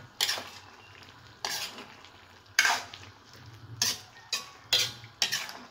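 Pork menudo with pepper is stirred in a sizzling pan, a spatula scraping in about seven regular strokes over a steady frying hiss, close and fairly loud.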